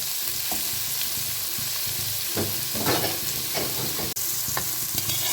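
Onions frying in a pan for a potato and radish-pod sabzi, a constant close sizzle punctuated by scraping stirs and a few sharp clicks of the spoon, with no talking.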